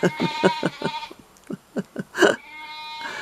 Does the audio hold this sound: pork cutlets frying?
no